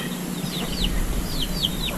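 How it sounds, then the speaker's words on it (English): Chickens on a farm in the Filipino countryside give soft clucks and short, higher-pitched calls over steady outdoor background noise. "So these are the chickens that you always hear on my live stream."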